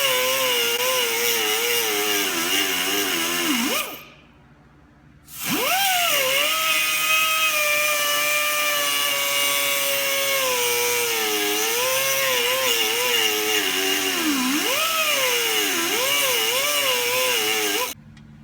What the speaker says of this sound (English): we've got it cut through on both sides with the little cutoff wheel